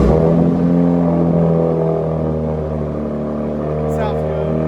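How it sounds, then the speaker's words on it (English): A RAM RHO truck fitted with a new AWE Zero FG exhaust fires up for the first time, then settles into a loud, close, deep idle rumble that holds steady throughout. "First startup with the new AWE exhaust."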